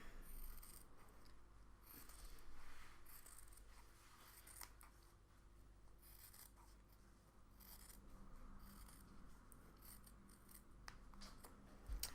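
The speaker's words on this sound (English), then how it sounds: "So I'm going to cut that in half. You can either do it with your rotary cutter or a pair of scissors." Scissors snip and crunch through sewn quilting fabric squares, cutting them in half along a drawn line for flying geese blocks; steady close cutting strokes over several seconds with no talk.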